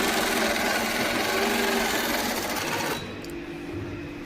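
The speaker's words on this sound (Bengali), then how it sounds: "বর্দা সেলাই ধরেছে" A sewing machine stitches continuously and close by, its dense buzzing whir filling the clip and easing slightly in loudness near the end.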